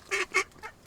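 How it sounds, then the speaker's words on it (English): A duck gives three or four short, nasal honking quacks in quick succession, fairly close and clear, with nothing else around them. "you're a very fine duck, but you're definitely in the wrong place."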